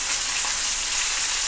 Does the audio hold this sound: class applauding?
no